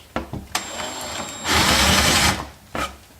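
A power drill boring into pallet wood whirs in short bursts, then runs steadily for about a second before stopping, with a few clicks and taps between runs.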